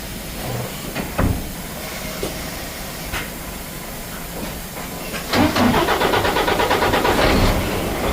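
A truck engine starts and the vehicle rolls forward a short way, mostly a steady low idle and hiss, swelling into a louder rumble near the end, with no talk.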